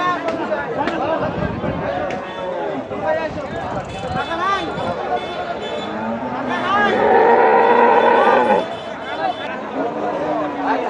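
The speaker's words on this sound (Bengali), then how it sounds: "এগুলো হচ্ছে ডাবল বডির গরু।" Cattle at a busy cow market, with a drawn-out moo rising clearly for a couple of seconds midway, surrounded by constant crowd chatter and nearby talking.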